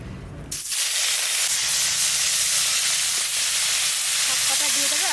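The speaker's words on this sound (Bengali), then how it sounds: "মাছ কটা এবার ভেজে নেব।" Dried hilsa fish pieces hit hot mustard oil in a kadai with a sudden loud burst of sizzling that settles into a steady, close hiss of frying.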